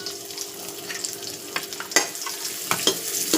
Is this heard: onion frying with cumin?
yes